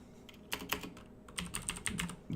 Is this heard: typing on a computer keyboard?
yes